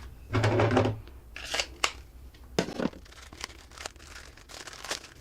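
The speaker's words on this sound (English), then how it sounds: "Let me use a knife here real quick. Careful not to cut the actual tourniquet." A knife slices through the plastic packaging of a MARCH IFAK tourniquet kit, close by, in several short, crisp cutting and tearing bursts with crinkling plastic between them.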